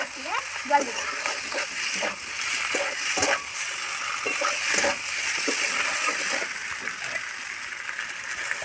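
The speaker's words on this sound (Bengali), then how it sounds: "জল দেবো জল দিয়ে দিলাম" Water is poured into a hot pan of fried cauliflower for a hilsa fish curry, giving a steady close sizzle and hiss, with scattered clinks and scrapes throughout.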